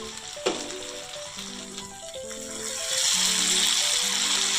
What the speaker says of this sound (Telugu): చక్కగా వేగిపోతుంది.